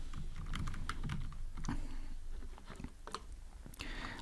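Typing on a computer keyboard while writing Android code: a close, quick flurry of plastic key clicks and taps in uneven runs, alone with no voices.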